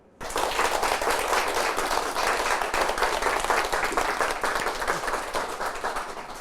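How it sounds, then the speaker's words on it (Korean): A studio audience at a Christian talk concert breaks into steady, full applause that starts abruptly and holds at an even, loud level for several seconds before easing slightly. "그에 대해서 좋은 이야기를 오늘 우리들에게 나누어 주신다고 하니 박수로 청해서 들어보겠습니다"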